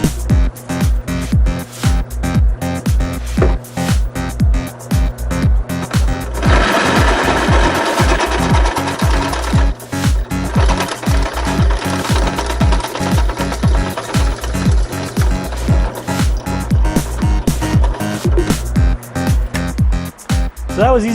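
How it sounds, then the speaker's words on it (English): A drill bores out a pin on the shifter of a 1968 BMW 2002, giving a loud, continuous rattling grind with steady rapid chatter that runs the whole way through. "So just going to drill this out."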